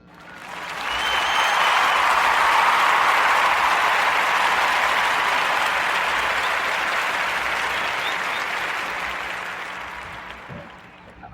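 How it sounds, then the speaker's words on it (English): Warm round of applause from a podcast audience for a young aviator, dense steady clapping that swells quickly, holds for about ten seconds and tapers off at the end, with no talk over it. "join me into giving him a warm narrative podcast round of applause to our young brother"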